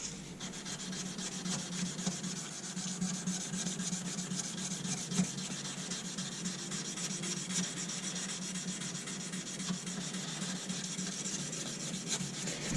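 A knife blade hand-sanded with fine sandpaper, around 600 grit, gives a steady, close, continuous rubbing rasp of repeated strokes that runs evenly throughout without speech.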